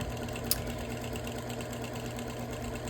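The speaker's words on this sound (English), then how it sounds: "So I'm quilting around everything" Sewing machine outline quilting through a wool quilt with thread and embroidery floss details, a steady close mechanical hum with a brief click near the start, no talking.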